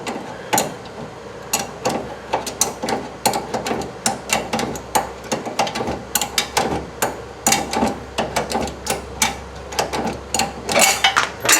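A ratcheting wrench works a nut loose on a VW Bus, giving a long run of quick, close, rhythmic metallic clicks in steady bursts with no talk.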